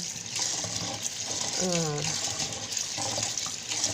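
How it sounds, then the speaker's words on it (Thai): Rice being rinsed in water at a sink to make rice-rinse water for homemade organic fertilizer, a steady splashing, trickling wash with a short voice passing over it midway. "ล้างล้างข้าวนะคะน้ำเสาข้าวก็คือน้ำล้างข้าวนี่แหละนะคะ"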